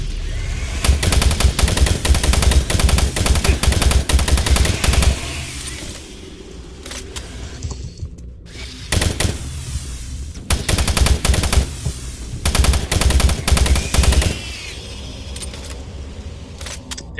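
A machine gun fires in Doom 3, with long rapid bursts of loud, close gunfire broken by short pauses and quieter stretches between volleys, no voices.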